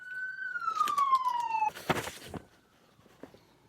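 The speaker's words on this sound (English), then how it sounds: "Usually what I hear, ambulances, fire trucks." A siren wails loudly in a falling tone, then cuts off into a burst of harsh noise and clatter, fading into quiet background.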